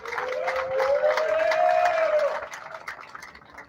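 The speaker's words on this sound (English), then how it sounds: "They deserve a huge round of applause" A crowd applauds at a college club baseball game in a stadium, a broad wash of clapping and cheering from a distance, with a rising whistle-like tone through the middle before the noise fades.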